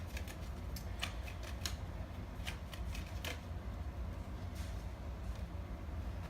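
Tarot cards are shuffled in a steady run of soft, quick riffling and slapping bursts that continue throughout, fairly quiet and close, with no talking.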